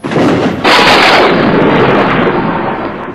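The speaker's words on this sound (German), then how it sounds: "Donner grollte und ein Blitz zuckte hernieder" A heavy thunder rumble in a dramatic audio story about a tower hits with a sudden loud crack and then rolls on as a broad, sustained roar that slowly fades.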